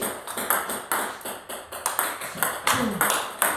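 Table tennis ball striking a paddle with Tenergy 19 rubber in a rally, quick regular bright pings about every half second, close and clear, with faint talk behind.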